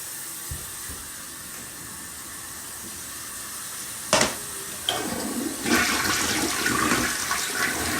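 A toilet flushes during a move-in inspection, with a sudden loud whoosh of rushing water that swirls and hisses steadily for several seconds, heard close with no talk.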